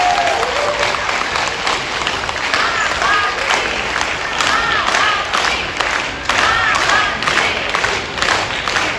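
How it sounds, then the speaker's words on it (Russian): An audience claps and cheers steadily for a performer taking the stage at a concert, a continuous, lively burst of applause with scattered shouts throughout. "Под ваши аплодисменты на нашей сцене Абсолютик."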